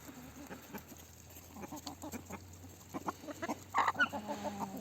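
Chickens cluck and murmur softly nearby, with a few louder squawks toward the end over a faint steady background hum.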